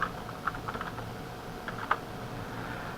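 Someone types on a computer keyboard, a light scatter of soft, irregular key clicks, faint and close, over a quiet room hiss.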